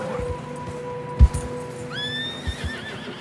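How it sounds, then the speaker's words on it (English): Horses whinny in a snowy game setting from Red Dead Redemption 2, a rising, quavering neigh near the end over steady hoof clops and a sharp thud, close and fairly loud. "Horses are struggling."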